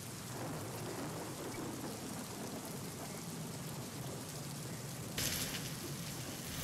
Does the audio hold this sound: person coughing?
no